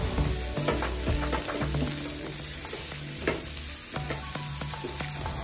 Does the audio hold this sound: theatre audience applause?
no